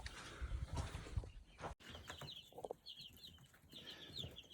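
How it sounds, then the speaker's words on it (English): A farm brooder holding over a hundred young chicks fills with dense, continuous high peeping and chirping, a busy chorus heard at moderate distance with some low rustling and background noise. "So we got over probably 120 chicks over here."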